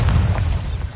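Bombarda spell going off in Hogwarts Legacy, a loud, dense low boom that fills the whole second with rumbling, continuous blast energy and no voice over it.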